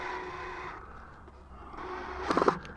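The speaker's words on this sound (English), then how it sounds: "And so I'm just putting 4 screws in." A power drill drives screws into a wooden garden bridge with a close whirring whine that fades, then returns and ends in a short loud grinding burst near the end.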